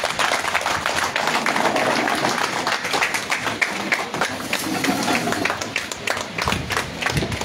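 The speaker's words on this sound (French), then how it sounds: "Voilà, on l'applaudit, s'il vous plaît." A congress audience at a political party gathering bursts into sustained applause, dense and continuous claps filling the hall at close range, lasting several seconds without pause.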